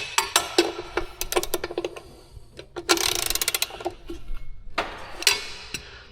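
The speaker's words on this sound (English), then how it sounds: "we were able to use this gear wrench" Gear wrench ratcheting on planter bolts during a repair, with rapid, close clicking runs interrupted by pauses and clanks of metal.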